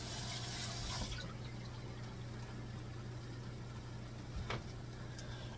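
A kitchen tap runs steadily for washing up, a faint continuous splash of water over a low hum, with a brief clatter near the end and no one speaking.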